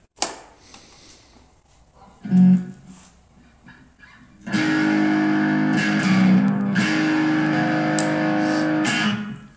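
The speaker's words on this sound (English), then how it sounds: "dial up some more distortion and just run through the pickups" Heavily distorted electric guitar: a few scattered picked notes, then a loud sustained crunchy chord that rings steadily for several seconds.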